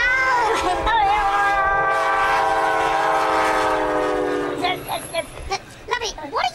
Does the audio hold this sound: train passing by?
yes